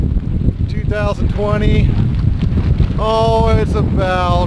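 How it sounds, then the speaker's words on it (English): Strong south wind of about 20 mph gusts over an open farm field on a warm, windy February day, a steady loud rumbling buffet on the microphone beneath someone talking. "We've got about 20 mile per hour winds out of the south"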